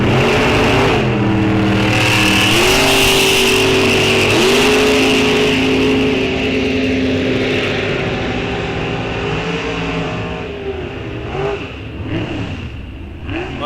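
A 1991 Beretta and a self-built 1966 Mustang drag racing at Rock Falls Raceway, engines roaring loud and close with rising revs and gear changes, then fading as the cars pull away.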